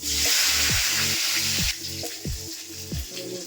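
Cumin seeds and bay leaf hit hot mustard oil with a loud, bright sizzle that quickly settles into a softer hiss, punctuated by several low gliding clunks of a utensil or pan, close by.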